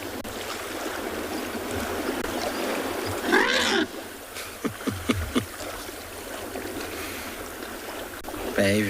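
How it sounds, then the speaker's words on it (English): An elephant splashing in water on a South African safari, with a loud burst of sloshing and a few sharper slaps and splashes, over a low background hum and soft outdoor ambience. "it's great to hear all the splashing"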